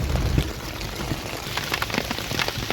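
Rain pours down steadily, a continuous hiss broken by individual drops splashing nearby, with no voices.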